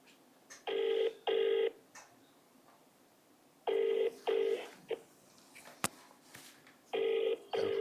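Telephone ringing unanswered with repeated paired electronic rings in three bursts separated by quiet gaps, moderately close and alone, with faint clicks between rings.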